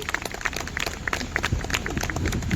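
Applause for Shivam at a retirement program: a crowd claps in a steady, dense patter that swells slightly toward the end, with some voices underneath.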